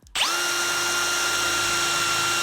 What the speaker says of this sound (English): we're outside drilling holes now